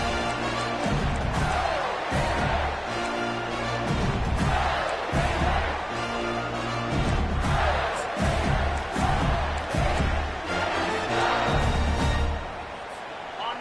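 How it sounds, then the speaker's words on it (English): Home crowd at a Florida versus Miami college football game, a loud, steady roar of cheering and shouting sustained throughout, dipping slightly at the very end. "Man, this crowd really affecting the football game."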